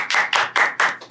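Hands clap in a steady rhythm of about five sharp claps spaced evenly, close and loud, from a small audience at a Christian podcast recording; no one speaks over it.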